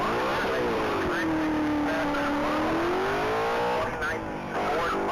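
A 2019 Ford Mustang launches at a standing-mile top-speed race, its engine revving in a loud sustained roar that rises and falls in pitch, with a voice talking over it.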